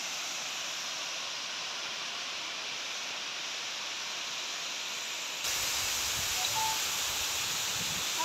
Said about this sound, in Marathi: तर धबधबा म्हणजे वॉटरफॉल आहे